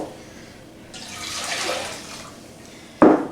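White vinegar is poured for a pickling brine, making a soft liquid trickle that swells briefly and ends in a sharper splash.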